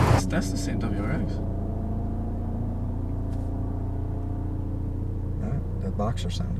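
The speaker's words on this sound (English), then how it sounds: "That boxer sound is nice though." A Subaru WRX boxer engine idles with a steady, deep, lumpy rumble close by, its pitch drifting slightly as it runs, with a few brief knocks and clicks at the start and end.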